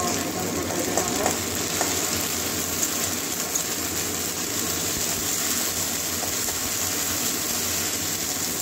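Ginger garlic paste frying in hot oil for a Bengali lote fish bhuna, giving a steady, dense sizzle that continues without a break throughout.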